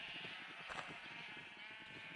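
Sheep bleat repeatedly over steady ambient farm noise in the farming game FieldCraft 21, the calls soft and somewhat distant, rising in a brief louder cluster near the middle.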